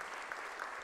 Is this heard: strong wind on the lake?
no